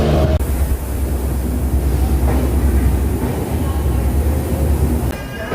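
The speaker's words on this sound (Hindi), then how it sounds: "अभी 10 मिनट लेट में ट्रेन छोड़ चुका है जयपुर जंक्शन से पुरी के लिए।" Loud, steady rumble of the Bikaner–Puri Express passenger train running after leaving Jaipur Junction, heard from inside a coach with continuous low wheel and track noise and faint rattles.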